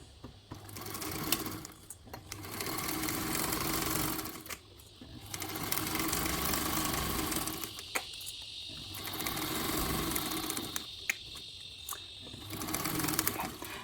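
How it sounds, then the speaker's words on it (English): A sewing machine stitches a 1/4 inch seam on a zippered travel backpack with an extended strap and D-ring, running in several steady, fairly loud bursts with short pauses between them. "we're going to sew that all together with a 1/4 inch seam allowance"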